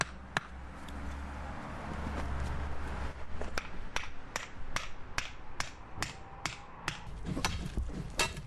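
Sharp digging strikes of a tool into soil while setting post holes for a wooden garden arbor tied into an existing fence, repeating roughly every half second over a steady low outdoor rumble, with no talk.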